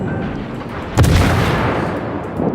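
A single heavy naval gun salvo in World of Warships, a sharp booming blast breaking over continuous battle noise and trailing into a rumbling decay.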